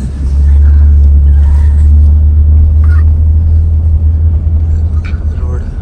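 A car drives along the badly potholed Alibag to Navi Mumbai road, giving a loud, steady, close low rumble of engine and tyres throughout. There is faint scattered noise and no clear speech.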